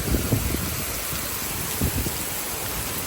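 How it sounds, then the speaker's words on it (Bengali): Heavy rain pours steadily during a storm in Singapore, a dense, even hiss that stays close and constant throughout with no voices. "যে পরিমাণ বৃষ্টি হচ্ছে"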